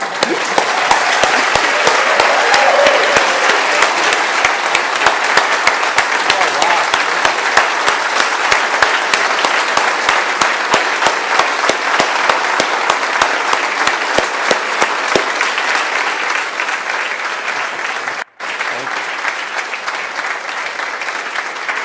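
Sustained applause from a sizable audience, dense and even, continuing for a long stretch before thinning slightly toward the end.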